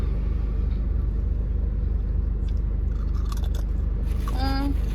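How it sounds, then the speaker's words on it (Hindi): Someone chews a crunchy fafda snack close up, with steady biting and crunching sounds throughout and a faint whistle-like tone near the end. "दोनों को एक साथ चबाओ।"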